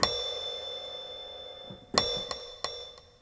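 A bright metallic percussion strike rings out, then several quieter repeats echo after it in a decaying stereo delay pattern, close and clear with no voices.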